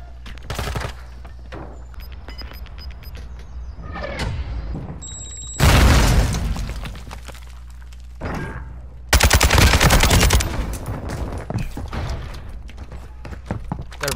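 Heavy bursts of automatic gunfire from Call of Duty: Modern Warfare 2 multiplayer, loud close volleys separated by quieter gaps with distant shots, some booming impacts, and a voice talking faintly in between.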